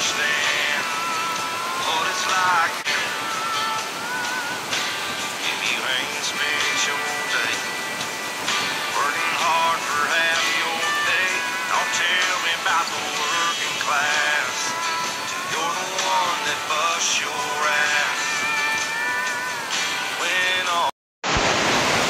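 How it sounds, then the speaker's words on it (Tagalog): Steady rain pours in the mountains at a family home in Zamboanga del Sur, a dense, even hiss that runs for the whole stretch with faint voices underneath, cutting out briefly near the end. "Ulan pala dito sa amin mga ka-idol."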